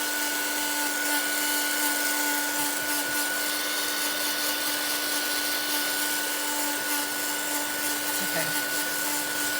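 A blower tool dries paint on an art journal page with a loud, continuous, close whooshing roar that holds steady throughout, with a person speaking briefly underneath.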